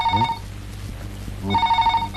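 A telephone rings in a Kannada film scene: two loud, close bursts of electronic ringing with a short quiet gap between them and no talk.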